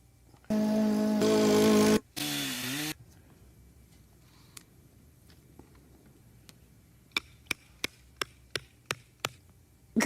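Seven sharp metallic strikes in a steady rhythm, like a hammer, ring out near and clear after a burst of loud machine noise at the start.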